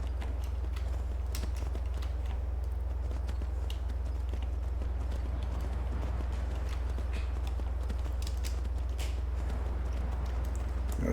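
A horse galloping in Skyrim with the Requiem mod: a continuous stream of hoof clatter over a constant low drone, with no one speaking.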